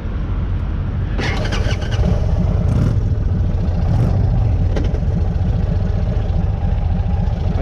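An Indian Chief motorcycle engine starts and runs at a steady, loud idle with a few brief blips of throttle, heard up close.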